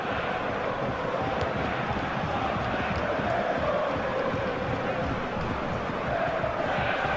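A dense, continuous stadium crowd roar of disapproval in the video game FIFA 15, Bayern versus Dortmund, rises as a broad wash with no clear pauses.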